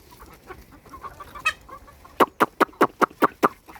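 Chickens called in to be fed maize give a few scattered soft clucks, then a quick run of sharp, evenly spaced clucks close by, loud and clear with no talking over them.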